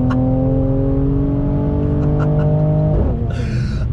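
A 2020 Mercedes-AMG C43 sedan engine revs hard and climbs in pitch, loud and close, then the exhaust drops off with a brief crackle as it eases off.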